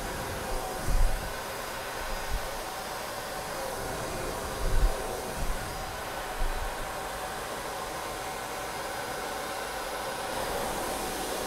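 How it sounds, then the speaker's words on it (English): A Freestyle blow dryer runs steadily while hair is smoothed into a sleek fringe, giving a constant airy whoosh at low level with a few soft low thumps from handling. "there's my sleek fringe using the Freestyle blow dryer"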